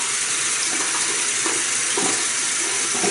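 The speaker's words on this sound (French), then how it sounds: "La brosse, on va mouiller la brosse." Tap water runs steadily to wet a shaving brush for a traditional shave, a loud, continuous rushing splash with slight surges and no voices.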